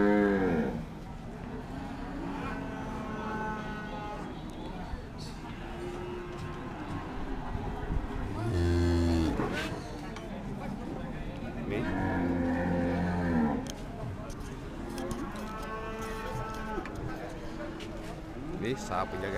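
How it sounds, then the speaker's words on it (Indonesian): Simmental cows at a livestock market give several loud, drawn-out moos, close by and spaced a few seconds apart, amid steady crowd and vehicle background noise; people talk in between. "Ini sapinya guys."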